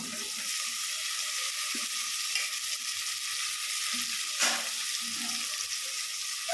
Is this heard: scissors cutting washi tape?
no